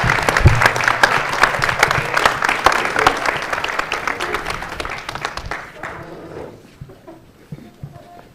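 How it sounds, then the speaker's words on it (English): A town hall audience applauds a ten-year-old boy stepping up to speak, loud sustained clapping from a crowd that gradually tapers off toward the end. "Give this young man a round of applause."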